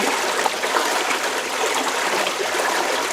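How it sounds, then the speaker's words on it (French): Water runs through a circuit and swirls around it, giving a steady, even rush of flowing, trickling water with no pauses. "Quand l'eau fait son circuit droite à gauche comme cela"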